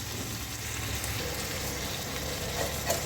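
Chutney simmering in a pan after coriander is added, a steady soft sizzle and bubbling hiss that runs evenly throughout at close range, with no voices.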